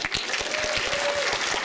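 Dense, continuous applause from an audience at a live podcast recording at a retro gaming expo fills the clip at steady volume, with a faint whistle-like tone running through the middle.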